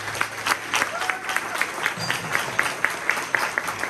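Applause from an audience of young participants at a formal gathering with an ambassador, a moderate crowd clapping steadily with distinct individual claps, alone without talk.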